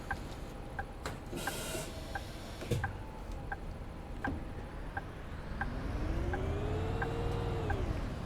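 Bus doors close in Bus Simulator 21. A steady, faint ticking runs throughout over low engine rumble, and a mechanical whine rises and falls as the doors swing shut near the end.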